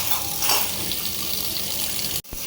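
Tap water runs steadily into a sink while dishes are washed, a close, even gush that stops abruptly just before the end, with no talking.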